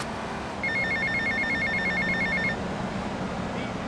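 A payphone rings in a video game, a repeated electronic bell-like trill for a couple of seconds over a low background hum, with a voice at the start.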